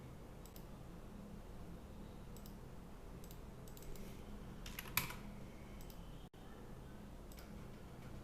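Light, sparse clicks from a computer keyboard during CATIA drawing work come in small irregular clusters, faint against a steady low room hum.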